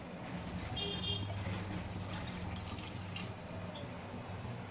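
Water is poured steadily into a pot, a continuous splashing stream with a faint hum in the background.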